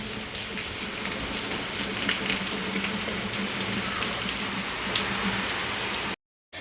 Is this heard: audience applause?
no